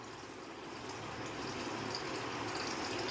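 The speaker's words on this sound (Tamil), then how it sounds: "இப்போ தண்ணி 5 மடங்கு தண்ணி, தேவையான அளவு தண்ணி கலந்துட்டோமா" Water runs and swirls steadily as it is mixed into powdered jaggery in a home kitchen, a continuous faint watery rush with no voices.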